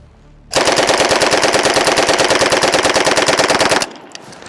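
A submachine gun, an MP40 or a Thompson, fires one long, rapid full-auto burst of about three seconds. The shots are loud, evenly spaced and close, and a brief echo follows when the firing stops.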